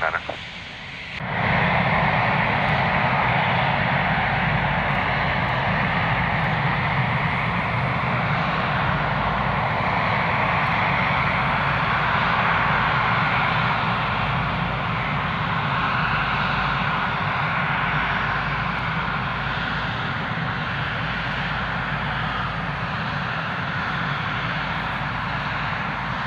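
Emirates Boeing 777 at Prague airport, with loud, steady jet engine roar that builds quickly and then holds as a broad, continuous rumble and whine.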